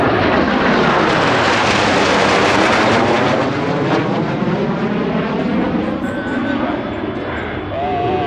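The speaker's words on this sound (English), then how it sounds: "Blue Angels 5 and 6 on approach to the flight line at 400 miles per hour." U.S. Navy Blue Angels jets 5 and 6 passing the flight line at an airshow in Harrisburg, a loud, continuous roar of jet engines that sweeps past and eases slightly toward the end.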